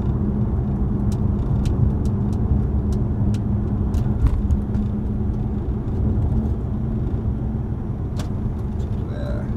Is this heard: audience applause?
no